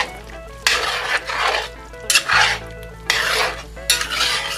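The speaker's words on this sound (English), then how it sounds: "So I'm going to add this sauce and gravy flour pretty evenly to it. And give it a little stir." Gravy thickened with sauce and gravy flour being stirred in a pot for a picante sauce, heard as repeated broadband scraping strokes in uneven bursts, close and fairly loud, with a steady low hum beneath and no talking.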